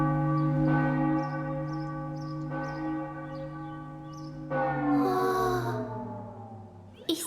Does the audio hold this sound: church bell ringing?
yes